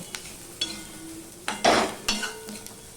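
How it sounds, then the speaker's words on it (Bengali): Fish roe fries in a pan with garlic, onion and chilli under a soft, low sizzle, broken by a few close, sharp scrapes and clinks of a spatula stirring against the pan. "পুরো রসুন পেঁয়াজের সাথে লঙ্কার সাথে ভালো করে ভেজে নেব"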